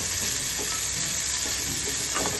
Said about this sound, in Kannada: ಅದ್ರ ಜೊತೆಗೆ ಇದು ಹಾಗಲಕಾಯಿ ಫ್ರೈ ಮಾಡ್ತಾಯಿದ್ದೀನಿ.